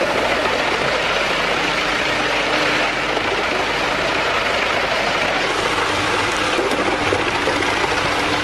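A powerful hydraulic wood chipper runs continuously nearby, a loud, dense engine roar with broadband mechanical noise and no pauses throughout.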